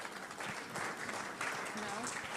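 Applause fills a Rotary club meeting room, a steady spread of many hands clapping at moderate volume, with voices murmuring underneath.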